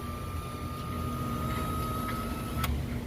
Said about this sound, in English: we need to lift the engine up all the way